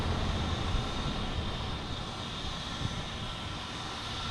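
A United Airlines jet arriving from Newark at Boston Logan Airport, a steady broadband engine roar that stays even and fairly faint throughout, with no voices.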